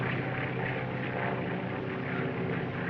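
A propeller aeroplane drones overhead, a steady, dense engine hum with a throbbing low rumble that holds constant and fairly close for the whole stretch, with no voices.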